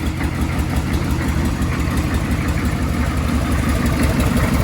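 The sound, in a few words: 6.5 liter truck engine starting and idling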